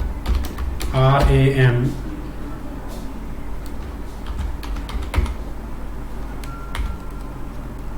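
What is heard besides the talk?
typing a password on a computer keyboard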